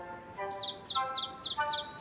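Cartoon birds chirp and squabble in quick, overlapping high tweets, with a run of rapid repeated chirps over a soft tonal background, fairly close and clear.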